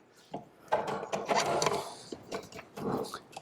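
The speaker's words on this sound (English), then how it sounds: "This is gonna go on the mixer" A stand mixer fitted with a paddle beats cookie dough, giving uneven thumping, knocking and whirring bursts up close as the dough catches and turns in the bowl.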